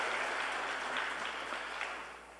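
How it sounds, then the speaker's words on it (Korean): A church congregation gives a short round of applause during a Sunday service, a dense, steady patter of many hands close by that fades slightly toward the end, with no voices over it. "박수로 보내주시기 바랍니다"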